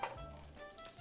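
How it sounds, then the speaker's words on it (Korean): Sausages fry in hot oil, giving a faint steady sizzle with soft crackles and a light stir, heard alone. "소세지 좀 넣어도 돼. 조심해서 튀어."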